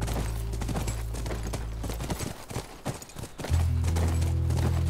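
Horse hoofbeats in The Last of Us, a steady clip-clop rhythm over a low droning game soundtrack, with a louder swell of ambience near the end.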